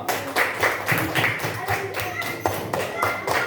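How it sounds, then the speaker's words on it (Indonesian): Rhythmic clapping from a small group in a classroom, steady repeated claps over a few seconds with voices mixed in. "tepuk tangan untuk kita semua"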